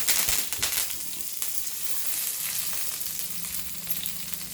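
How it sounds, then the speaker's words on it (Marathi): Crushed garlic and curry leaves sizzle and fry in hot oil in a pan, a steady close crackling hiss that starts strong and holds evenly throughout, with no talk. "आधी लसूण टाकते मी थोडं. हे बघा, असं जाड मोठं ठेचून घेतलं आहे त्याला, आणि कढीपत्ता टाकते."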